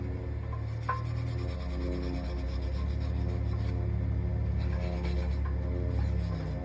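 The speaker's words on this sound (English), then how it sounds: "I might finish it off with a little wire brush it off just a little bit more." A wire brush scrubs a freshly laid 7018 weld bead on flat steel plate, producing a continuous raspy scraping sound of moderate loudness with no talking.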